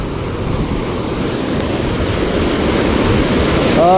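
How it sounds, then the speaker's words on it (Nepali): A large swollen river roars steadily where two streams join, a dense broadband rush of water close by with wind buffeting the microphone, growing slightly louder near the end. "दुईवटा खोला मिलेर एकदमै ठुलो भइसकेको छ खोला।"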